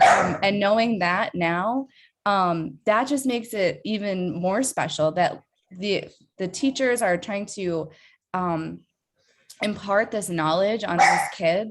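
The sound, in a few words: dog barking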